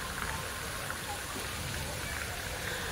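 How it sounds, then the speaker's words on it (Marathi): Heavy rain pours down at an amusement park in Pune, making a dense, steady hiss that stays loud and unbroken from start to finish. "सध्याला जे आहे ते जोरात पाऊस चालू आहे"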